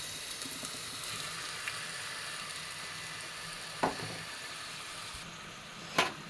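A mix of fish and gooseberry frying in coconut oil, giving a steady close sizzle with a couple of sharp clinks from a utensil against the pan, and no talking.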